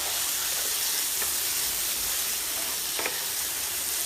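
Tomato and broccoli stirred together in a hot frying pan, a steady loud sizzle and hiss of oil with a couple of faint scraping taps from the spoon, no voices.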